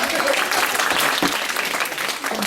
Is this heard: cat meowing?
no